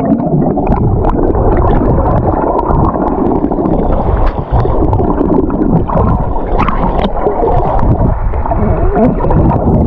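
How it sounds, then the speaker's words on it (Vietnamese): Powerful ocean surf at a Panama City beach, a loud continuous churning roar of breaking waves and rushing water, close to the microphone with steady wind buffeting throughout. "have some powerful waves"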